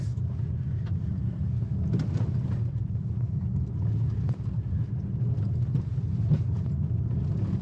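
A 2021 Kia Sorento drives off road at a steady 20 mph, with a continuous low road and drivetrain rumble inside the cabin, wind buffeting and occasional knocks and thumps from the rough ground.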